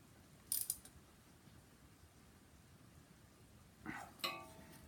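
A 13 mm ratchet tightens the alternator anchor bolt on a 1973 Mercedes 280SE with the 4.5 engine. A few faint, quick clicks come in two short bursts over a quiet background.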